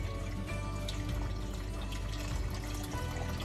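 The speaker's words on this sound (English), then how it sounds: "I'm going to go ahead and pour in the broth" Broth poured into a pot for pork tenderloin stew, a steady close liquid stream splashing continuously for a few seconds.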